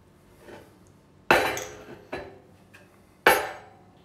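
Ice cubes clatter and clink in three sharp, bright bursts with quieter knocks between, close by in a kitchen as ice is scooped for a Bijou cocktail, with no talking.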